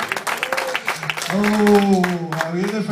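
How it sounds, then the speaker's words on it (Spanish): Church congregation clapping in praise to the Lord during a sermon, brisk scattered claps heard under and between a preacher's voice, which rises into loud, drawn-out speech. "Dar un aplauso al Señor"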